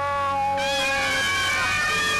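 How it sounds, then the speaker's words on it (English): A cat meows in the horror puzzle game Ib, a loud, sustained, tonal cry with rising and falling pitch that fills the whole moment and stands alone without speech. "We'll give this to the cat."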